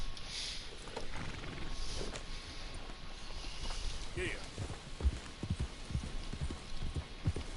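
Hooves clip-clop at a steady walking rhythm as a horse is ridden in Red Dead Redemption 2, fairly close, with a voice and game background sound running underneath.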